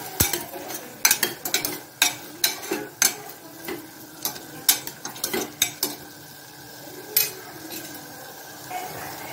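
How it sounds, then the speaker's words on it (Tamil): Asafoetida and turmeric are stirred in a pan, with a quiet sizzle under repeated scraping and clinks of a spoon against the metal pan, close and moderately soft. "போட்டு நல்லா வதக்கிக்கலாம்"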